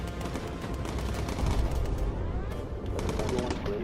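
Automatic guns on a bomber in Bomber Crew fire in a steady, rumbling stream of shots over droning aircraft engine noise, loud and continuous throughout.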